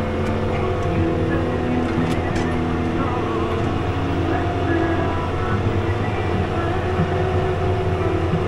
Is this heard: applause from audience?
no